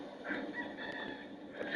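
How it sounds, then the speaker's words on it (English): A rooster crows loudly and close by in a short, brassy burst, heard on its own. "There's a rooster in Chicago?"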